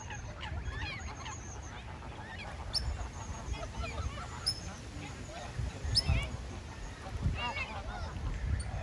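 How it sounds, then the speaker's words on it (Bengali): A large flock of ducks by a river in the evening gives repeated honking and quacking calls, some near and some farther off, over a constant low outdoor rumble. "অনেক হাঁস।"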